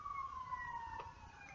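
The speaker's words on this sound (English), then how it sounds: "as you can probably hear a siren" A faint emergency siren passes in the background, its steady wailing tone drifting slowly downward in pitch as it moves away behind low room noise.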